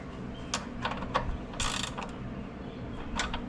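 Ratchet wrench snugging a part under a 5.0 Mustang during an oil change, a few quick close clicks and short bursts of turning, with no talk.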